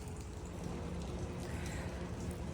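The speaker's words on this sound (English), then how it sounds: "It's raining." Rain falls steadily over a suburban garden, a dense, even patter of drops on surfaces with no voices.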